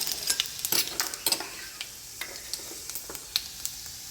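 Cumin seeds and asafoetida sizzling in hot oil while being stirred for a kantola recipe, a steady bright frying hiss broken by clattering spoon scrapes and taps, close and alone without talk.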